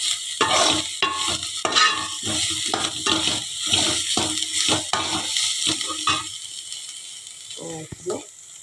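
Coriander stems are sautéed in a pan while being stirred with a spoon, giving rhythmic scraping bursts over a soft sizzle, close and fairly loud, fading to quieter scrapes near the end.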